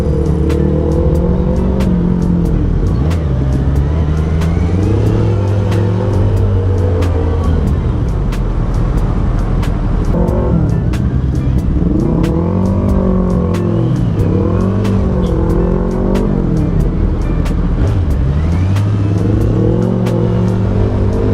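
A Kawasaki Ninja 1000 sport motorcycle engine hums steadily up close, revving up and down repeatedly as it moves through slow, congested traffic, with a constant background roar.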